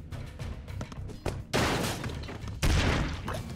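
Bursts of gunfire in the Broforce video game, loud and close: a few sharp single shots, then two long roaring volleys of rapid fire, with no voice over them.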